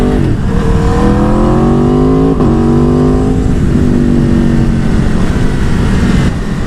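Loud, close engine note of an 1100 Aprilia sport motorcycle while riding, rising and shifting through gears with a brief dip mid-stretch and a sustained roar to the end.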